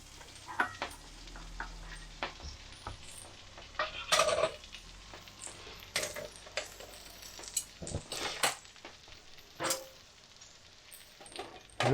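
Scrambled egg simmers in a Trangia camping stove pan, giving a faint, soft sizzle broken by scattered clinks and scrapes of utensil on metal, close by and without talk.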